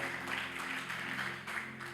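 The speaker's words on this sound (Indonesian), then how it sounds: "kita kasih tepuk tangan buat Yesus kita" A church congregation applauding during a sermon, a dense sustained patter of clapping heard faintly over an organ-like held tone, continuous for two seconds.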